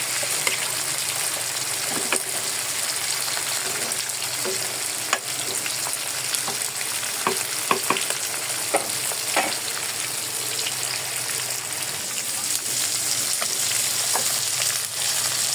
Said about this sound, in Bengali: এই যে মাছটি হচ্ছে ভাজা আবার হয়ে গেছে